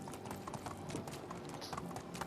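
Horse hooves clip-clop in a steady, quick rhythm at moderate distance in a village-building video game, alone without talk.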